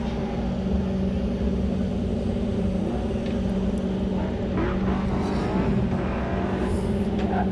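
Race car running down the backstretch at an autocross event, heard as a steady, moderately distant engine drone with a low rumble that rises and falls slightly, heard continuously throughout.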